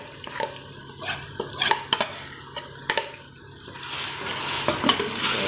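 Onion, garlic and green chili paste goes into hot ghee for chicken shahi korma; a few utensil clanks and scrapes come first, then a steady, louder sizzle spreads and holds to the end.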